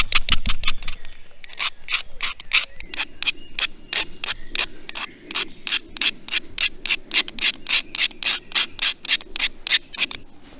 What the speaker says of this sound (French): je vais gratter donc la pierre pour faire de la poudre